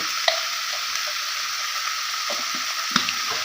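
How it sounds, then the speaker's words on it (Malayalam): Beef roast sizzling in a pan as it is stirred, a soft constant fry under a few light scrapes and squishy stirs, close and with no voices. "നല്ലോണം ഒന്ന് ഇളക്കി കൊടുക്കണം"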